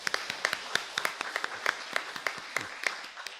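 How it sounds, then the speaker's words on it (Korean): A church congregation claps to welcome a new family at a Sunday service, a modest, fairly sparse patter of individual hand claps, distinct and irregular, at moderate level with no one speaking. "우리 박수로 한번 환영하겠습니다."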